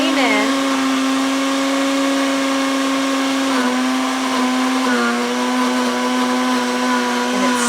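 A Ninja Foodi blender runs on medium speed while blending pesto, giving a loud, continuous motor whine with a steady pitch that dips slightly a few times as the contents churn.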